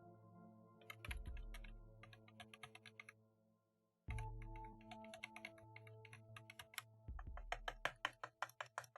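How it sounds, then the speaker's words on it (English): Bursts of rapid typing on a quiet, non-clicky computer keyboard, soft close taps in quick runs separated by pauses, with a few heavier knocks as hands shift. "Yeah, I've never done the keyboard ASMR before."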